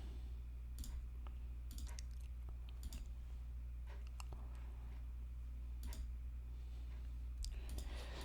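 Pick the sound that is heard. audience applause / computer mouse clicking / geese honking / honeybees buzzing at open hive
computer mouse clicking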